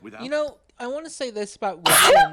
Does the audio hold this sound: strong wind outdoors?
no